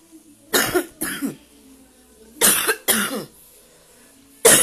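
A person coughs in close, loud bursts, mostly in pairs, separated by short quiet gaps.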